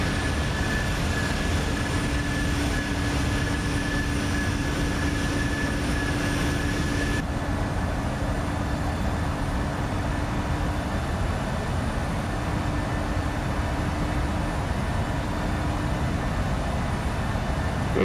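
An airliner in the Prepar3D v4.2 flight simulator game roars steadily through its takeoff run, a loud continuous engine rumble and whine with a sustained tone that shifts partway through.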